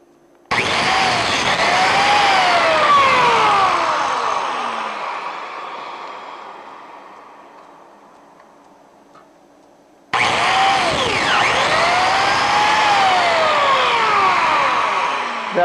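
A Lamello biscuit joiner with a 4 millimeter blade cuts slots in two loud bursts: a high, whining spin-up and cut that slowly winds down, then a second abrupt start of the same close, steady whine.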